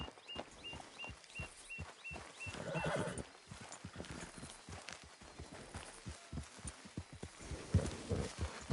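Hooves clip-clop in a steady walking rhythm while a horse whinnies and snorts in Red Dead Redemption, with a faint repeating beep in the background.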